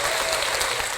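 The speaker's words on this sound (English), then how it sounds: "We clap it up for that" A short burst of crowd applause, dense and steady throughout, with no voices rising above the clapping.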